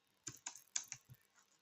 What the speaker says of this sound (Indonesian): Kita ketik aja trim